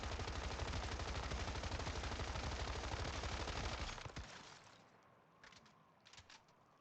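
A gun in a video game fires a fast, unbroken burst during a damage test. The rapid rattle lasts about four seconds, then stops abruptly, leaving faint scattered sounds.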